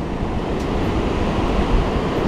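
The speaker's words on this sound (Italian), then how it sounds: "Questo è il mare, ragazzi, mare sempre con vento non enorme," Sea surf churns under a strong, steady wind along the shore, a dense continuous roar of breaking waves and gusting air with no voices.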